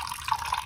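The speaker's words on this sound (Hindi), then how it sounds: "इस कंटेनर में हम पानी डालते हैं डेढ़ गिलास" Water poured from a glass into a container in a home kitchen, a short, soft, steady splash and trickle heard alone at low volume.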